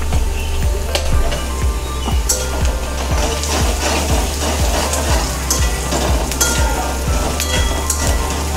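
Turmeric sizzles in hot oil in a pan for kanda pohe, a steady crackling fry with repeated scraping strokes of a stirring spoon, close and continuous with no talk.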